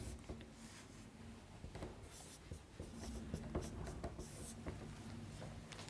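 Marker or chalk writing a word on a classroom board, a steady scratchy rubbing of strokes under a constant noisy room background, with no clear speech.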